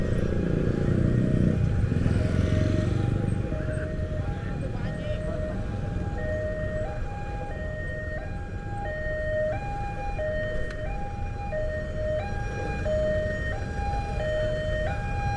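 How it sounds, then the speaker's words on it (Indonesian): A level crossing warning bell beeps in a steady repeating two-tone pattern as a train passes near Serpong, with road and motorbike traffic rumbling underneath and people talking nearby. "Ada kereta lewat tuh guys, ada kereta lewat."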